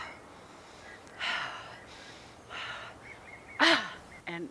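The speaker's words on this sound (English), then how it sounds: "Take some deep breaths." Slow, deep breaths during a stretching and neurolymphatic massage routine, with several long airy inhales and exhales up close, one sharper gasping breath and a soft sigh near the end.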